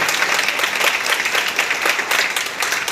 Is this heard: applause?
yes